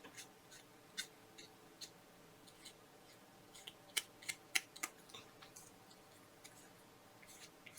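Felt-tip marker run along the cut edges of scrapbook paper, giving faint scratchy strokes and soft ticking taps that come in irregular bursts, close and quiet with no talking.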